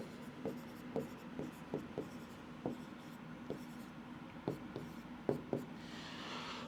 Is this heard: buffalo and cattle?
no